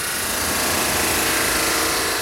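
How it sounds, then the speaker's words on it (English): A belt sanding machine with coarse and fine belts and a feed belt runs wood through its sanding heads, producing a loud, continuous broadband roar and whine with a steady unchanging drone and no talking. "I'm using this sanding machine"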